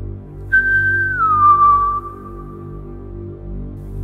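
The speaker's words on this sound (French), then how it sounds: "Un sifflement, quelque chose qu'elle ne connaissait pas." A single sustained whistle that starts high and slides down to a lower held tone, eerie and alone over a low steady hum.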